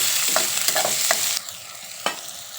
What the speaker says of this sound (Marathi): छान असा आपण कांदा परतून घेऊया